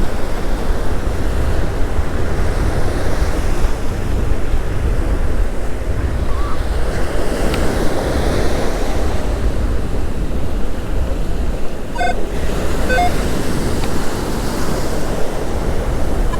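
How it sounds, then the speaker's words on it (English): Surf washes continuously onto a sandy beach at Jensen Beach, a broad steady roar with wind buffeting the microphone and a faint metallic clink midway. "And now water comes in."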